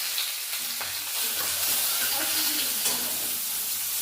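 Chopped onion and five-spice seeds frying in hot oil in a village kitchen, with a loud continuous sizzle and crackle, scattered pops and light stirring scrapes, and no talking.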